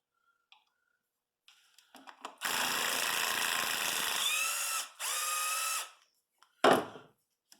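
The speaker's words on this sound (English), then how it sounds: "Just spin all the bolts out for the coils." A power tool spins the ignition coil bolts out of a Pontiac Grand Prix: a long whirring burst and a shorter one, then a brief sharp spurt, all close in an otherwise quiet space.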